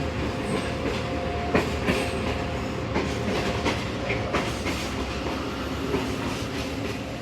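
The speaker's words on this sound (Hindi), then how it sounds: "दो सौ 10 डाउन यानी कि फैज़ अहमद फैज़ पैसेंजर एंटर हो रही है शादरा" The Faiz Ahmad Faiz passenger train rolls along the rails near Shahdara, with a continuous rumbling roar and rhythmic clickety-clack wheel beats, carriages passing close and loud throughout.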